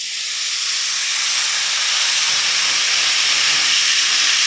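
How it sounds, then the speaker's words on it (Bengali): Steady, loud hissing sizzle as water hits fried spices and vegetables in a pan for Bengali pui shak labra with fish, a broad continuous hiss swelling slightly and holding without break, no voices. "এবার আমি এর মধ্যে জল দিয়ে দেবো।"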